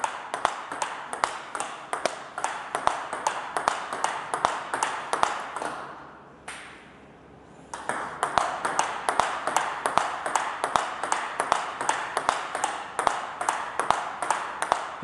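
Table tennis ball struck with steady backhand drive strokes, a crisp regular ping of ball on racket and table repeating about twice a second, pausing briefly midway before resuming; close and clear, with no talk over it.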